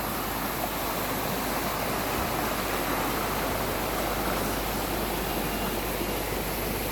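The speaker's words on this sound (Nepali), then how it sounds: "यो चाहिँ काकोपेत्रियाको खोला" The stream at Kakopetria, Cyprus, flows in a steady, broad rushing wash of water, loud and unbroken throughout, with no voices.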